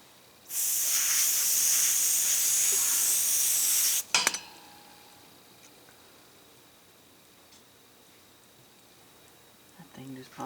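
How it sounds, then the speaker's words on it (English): Chemical soak fizzing and foaming on a part from an abandoned numbers-matching 1966 Chevy Biscayne big block, a loud steady hiss for about three and a half seconds that cuts off sharply, followed by quiet with faint clicks. "Oh, it's foaming pretty good there."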